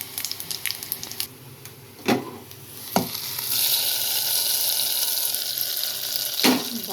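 Asafoetida dropped into hot tempering oil for gongura dal, a loud sizzle swelling after a few sharp clatters and bursting again near the end, with no voices.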